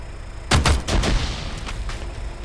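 Video game gunfire: several sharp shots in a quick irregular burst, then fainter scattered shots trailing off over low background noise.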